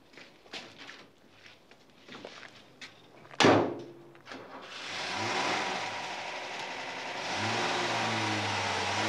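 A car engine starts up with a door thump, then revs and pulls away, its steady engine noise rising in the foreground over about five seconds after quieter rustling; set in a 1970s German crime drama.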